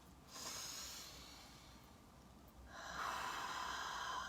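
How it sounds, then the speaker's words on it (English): Deep breaths drawn during a guided tapping exercise, two long airy inhale-exhale swells, quiet and close, with no talking. "And take a deep breath."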